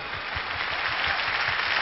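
Applause from a concert audience during a stage event, a steady broadband wash of clapping that fills the whole moment, fairly loud and continuous without speech over it.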